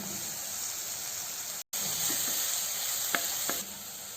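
Onion and ginger garlic paste frying in a pan for a vegetable kurma curry, giving a loud, steady sizzle close by with a few faint clicks of stirring and a short dropout partway through.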